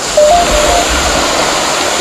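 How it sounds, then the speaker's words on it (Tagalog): A river flowing below a spot at night gives off a steady, loud broadband rush of water, continuous and unbroken, with no speech over it. "Dito, merong ilog sa ilalim."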